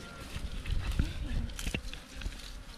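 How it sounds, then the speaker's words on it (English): A wild bee swarm entering a modern hive gives a faint, continuous buzzing hum with nearby wingbeats passing close, brief and low in level. "My first time to see a swarm."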